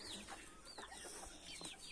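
Chickens cluck and murmur in short overlapping calls over a steady background, several birds close by with no talking.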